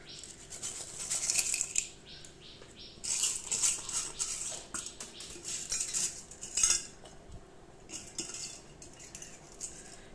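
Green gram lentils are swirled and rinsed in a metal pot, making close, pattering rattles and light metallic scrapes in several short bursts, with quiet gaps between them.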